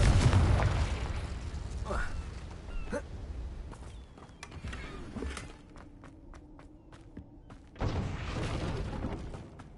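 A Confringo explosion spell goes off in Hogwarts Legacy with a sharp burst and booming impacts among footsteps and game ambience, one strong blast closing the passage, with a voice speaking between.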